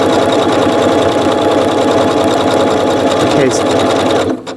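A sewing machine sews with variegated Gutermann thread set to a very short 0.3 stitch length, running loud and continuous with a steady mechanical whir and rapid needle chatter, then cutting off near the end after a brief spoken word.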